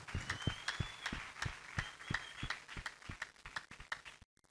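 A church congregation claps in a steady, rhythmic beat of sharp, evenly spaced claps, with a faint sustained tone over it, before the sound cuts off abruptly at the end.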